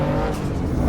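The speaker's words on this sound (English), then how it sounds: "So let go and brake. Keep braking." Race car braking hard in Assetto Corsa EVO, a loud, close engine roar with tires squealing and skidding through a brief burst.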